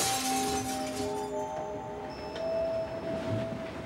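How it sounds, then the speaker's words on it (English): Glass crashing and shattering in the night, a loud, continuous burst of breaking glass with sustained ringing, chiming tones carrying on for several seconds, heard alone with no voices. "he was awakened by the sound of crashing glass"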